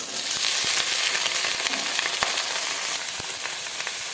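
Onion and washed vegetables hitting hot oil tempered with five-spice seeds, a loud continuous sizzle and crackle with occasional stirring clinks, close by.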